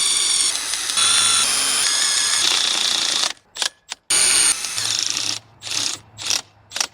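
A power drill drives a self-tapping screw through two 1/4-inch plates of a dump truck tarp-kit mounting bracket, in close, loud stop-start bursts of whirring and grinding with brief pauses between.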